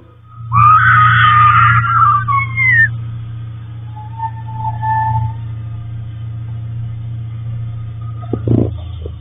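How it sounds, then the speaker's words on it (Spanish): A loud, drawn-out wailing cry rises and falls over a steady low rumble, followed by fainter distant moans and a brief thump. "Se alcanza a escuchar demasiado cerca el grito lastimero de una mujer"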